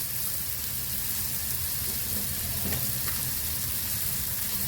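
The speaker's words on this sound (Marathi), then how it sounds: "टॅमॅटो पण चांगला मऊ होईपर्यंत परतून घ्यायचा यामध्ये मसाले घालून दिले" Tomatoes and spices sauté in a pan with a steady, close sizzle and crackle, a faint stir or scrape breaking through briefly in the middle.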